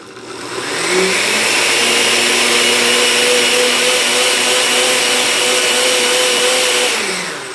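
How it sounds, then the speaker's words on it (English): A blender pulverizing popsicle ingredients runs at full speed, a loud, steady motor whine and roar that spins up quickly, holds evenly for several seconds, then starts to wind down, with no voices. "you're going to turn on your blender and pulverize it"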